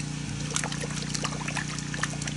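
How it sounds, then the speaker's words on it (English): Meguiar's Gold Class car wash shampoo is stirred by hand in a bucket of water, producing faint irregular splashes and trickles over a steady low background hum. "Now, just with a little bit of hand agitation, it is starting to create some bubbles."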